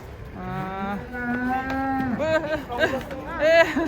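A big bull being unloaded from a truck moos in several long, loud, drawn-out calls close by. Shorter bellows follow, over faint background chatter.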